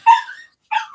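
A dog lets out two short yelping barks with a brief pause between them, fairly close and sharp.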